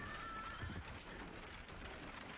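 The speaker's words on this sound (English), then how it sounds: "Poor horse. I love horses." A horse in Parasite Eve gives a brief, faint whinny early on, thin and distant within a dense, noisy game backdrop that carries on afterward.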